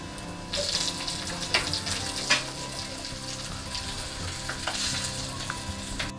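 Pomfret fish fries in a pan with loud, continuous crackling sizzle and spitting oil, with occasional sharper pops and a few scraping stirs close by.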